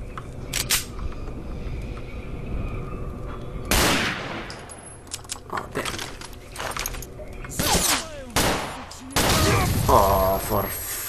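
Gunfire in the video game S.T.A.L.K.E.R. Call of Pripyat, Misery 2.1 mod, with a jam-prone gun: scattered sharp shots and short bursts with clicking weapon mechanisms between, over quieter background sound, and a voice speaking partway through.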